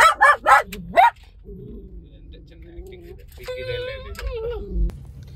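A few sharp barks ring out up close, followed by a long drawn-out whine and higher whimpering cries from the dog.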